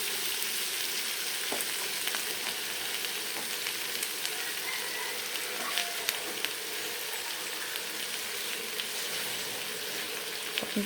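Pork binagoonghan frying in a pan after a splash of water goes in, giving a steady, close, dense sizzle that holds evenly throughout without any talk.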